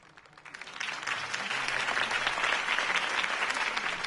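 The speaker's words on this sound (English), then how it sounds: "If only Mr. Wayne, my campaign's largest backer, could have heard that applause" A crowd bursts into applause after Harvey Dent's campaign speech in a Batman Telltale game, swelling from quiet to a sustained, dense roar of clapping that holds steady to the end.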